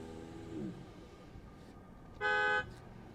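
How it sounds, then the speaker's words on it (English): A single Tesla Model 3 horn blast, heard with the window down, steady and fairly loud, sounds for about half a second against a low background hum. "Now let's see what it sounds like with the window down."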